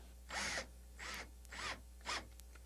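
Screws driven into a hard plastic shower curtain rod, heard as four short separate bursts of grinding, ratcheting turns, close and fairly quiet, with no talking.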